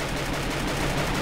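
Rapid automatic gunfire in the Free Fire battle royale game, a dense unbroken burst of shots lasting about a second.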